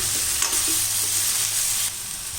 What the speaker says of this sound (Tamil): இந்த கத்திரிக்காயும் இதில் நல்லா வதங்கணும்.